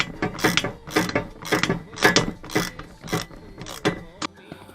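A hand ratchet clicks in quick repeated bursts as it backs bolts out of a sofa inside an RV, close and clear with short pauses between strokes.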